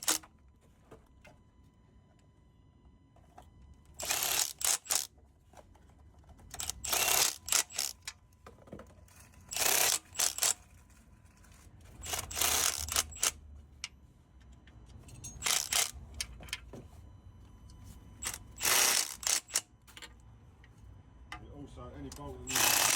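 A ratchet clicks in repeated short bursts as a Ford engine is cranked over by hand during a wet belt job, with quiet voices in a workshop between the bursts.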